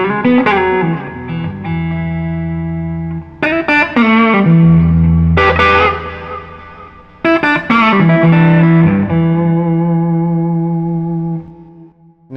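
An Asher Model T electric guitar played through its neck pickup rings out in loud, sustained chords and notes with effects and reverb, in phrases separated by brief pauses.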